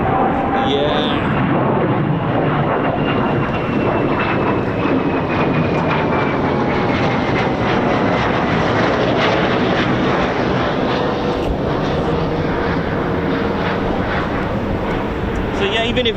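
A Royal Air Force and 809 Naval Air Squadron F-35B stealth fighter jet producing a loud, continuous engine roar that fills the whole stretch, with voices heard over the powerful rumble.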